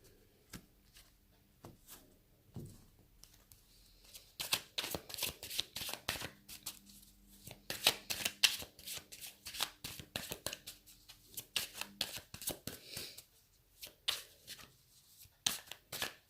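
An oracle card deck is shuffled by hand close by: soft, rapid riffling and sliding of cards that builds into steady bursts, with quiet gaps and no voices.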